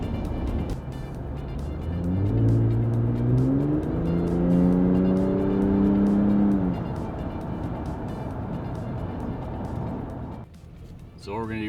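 Ram 1500 fitted with a twin turbo exhaust, heard inside the cab as the engine revs up, the pitch climbing over several seconds, then easing back to a steady low drone.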